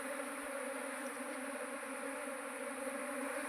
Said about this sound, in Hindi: ये चारों तरफ मेरे उसमें भी मधुमक्खी, ये भी उड़ना शुरू कर दिया